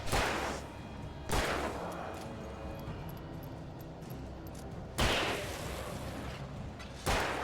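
Gunfire in the video game Alan Wake Remastered, four loud separate booming shots spaced a few seconds apart, each ringing out over a dark ambient game background.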